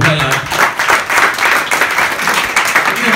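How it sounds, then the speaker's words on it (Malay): Audience applause at a Malay-language talk on patience and faith, dense steady clapping for about three seconds with a few faint voices mixed in. "Bagi tepukan lah."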